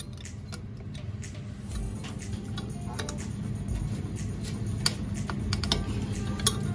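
A 14 mm wrench loosening the brake caliper bolt on a Triumph motorcycle, giving sparse close metallic ticks and clicks over a quiet background, with a couple of sharper knocks near the end.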